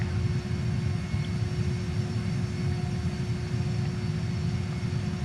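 Steady low rumble of a JAS-39 Gripen jet engine idling while taxiing to parking in Microsoft Flight Simulator, a constant droning hum with a faint tone above it, continuous and fairly close with no talk.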